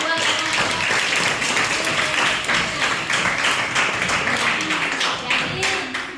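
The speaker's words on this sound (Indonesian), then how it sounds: "tepuk tangan buat" Classroom audience applauding a student during a lesson, a steady wash of clapping hands lasting several seconds with voices mixed in underneath.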